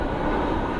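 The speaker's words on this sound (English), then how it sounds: "An airplane's passing by" A steady, broad roar from an airplane passing overhead fills the whole short stretch, fairly loud outdoors with no talking.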